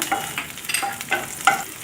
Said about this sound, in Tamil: பச்சை வாசனை போகிற வரைக்கும் வதக்கிட்டு அதுக்கப்புறம் பச்சை மிளகாவும் கருவேப்பிலையும் ஆட் பண்ணிக்கோங்க